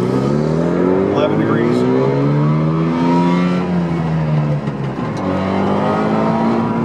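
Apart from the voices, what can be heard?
Subaru 360 two-stroke car engine revving and accelerating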